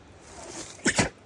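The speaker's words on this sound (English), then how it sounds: "well, you keep sneezing, Wally." A dog sneezes twice in quick succession outdoors on a trail, two short sharp bursts close to the microphone after a quiet stretch.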